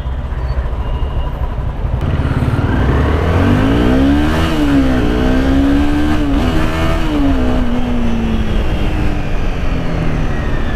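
A Honda CBR250R motorcycle revving loud and close through its exhaust, the engine note climbing and wavering as the throttle is worked, then easing back to a steady idle, with no voices.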